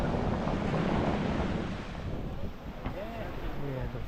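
Sea surf rolling onto Sinquerim Beach in North Goa, a continuous wash of waves under gusting wind rumble on the microphone, with faint distant tonal sounds near the end.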